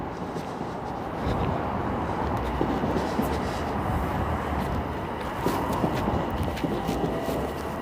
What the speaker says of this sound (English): That's the train I want.